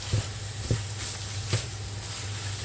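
Tomato paste being stirred into minced meat cooking in a pan for a quick hachis parmentier, a steady broadband sizzle with a few soft spoon scrapes and knocks against the pan, close by and moderately quiet, no talking.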